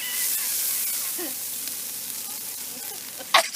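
Food sizzling while being cooked, a steady hiss of frying with a brief clatter near the end and faint voices in the background.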